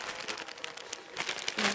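A plastic mail-order clothing package crinkles and rustles as it is opened by hand. The crackling sounds close but fairly quiet and lasts only a moment.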